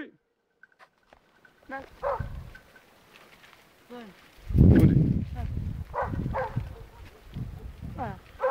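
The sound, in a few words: hunting dog barking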